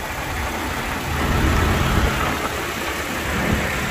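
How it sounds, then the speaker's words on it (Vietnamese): A 2010 Toyota Innova G engine idles smoothly and quietly up close, a steady low hum that swells slightly midway, with no talking. "Cục máy khá là êm,"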